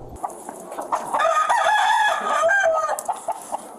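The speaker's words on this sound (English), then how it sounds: "you can see several roosters in cages on the property" A caged rooster at an illegal cockfighting site in Albuquerque crows loudly nearby in a drawn-out call, surrounded by scattered clucking from other caged fowl.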